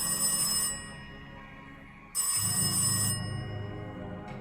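A telephone rings in the video game The Darkside Detective with two loud electronic ring bursts separated by a pause, sounding alone over a low background hum with no talking.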